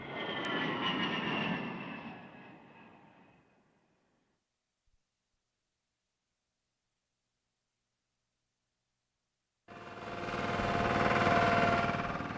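An A-10 jet aircraft engine roars steadily at an airbase in Iraq, loud and close, fading out over a few seconds. After a stretch of silence the roar cuts back in abruptly at full strength.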